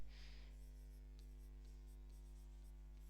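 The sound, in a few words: writing on a board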